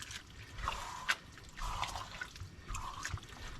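Duck stock pouring into a pot for cooking rice, gentle trickling and gurgling in three short pours with brief pauses between, close and fairly quiet.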